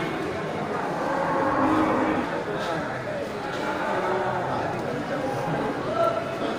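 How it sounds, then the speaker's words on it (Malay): Outdoor crowd murmur and chatter at the Bireuen animal market with Indian-type water buffalo sounds mixed in, a steady busy background of people and animals at close to moderate distance. "ini masih sangat banyak turunan dari kerbau India"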